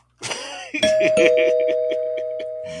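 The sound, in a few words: doorbell ringing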